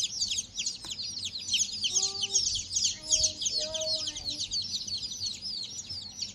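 Silkie baby chicks peep in a dense, continuous high-pitched chorus close by, with a few slightly lower chirps standing out briefly.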